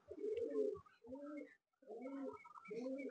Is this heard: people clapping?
no